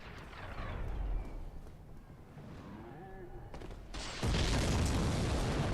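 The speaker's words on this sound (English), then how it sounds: "Super loud explosion sounds never get old, man." A loud boom from the Dark Souls video game, set during a fight with the Iron Golem, erupts suddenly near the end and stays as a dense roaring blast after a quieter stretch of game sounds.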